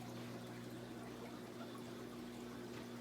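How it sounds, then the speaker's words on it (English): An aquarium wave maker runs in a fish tank, giving a faint, steady rush and trickle of moving water over a low constant hum, with no voices. "The wave maker will be on for a few more minutes and then it will shut off."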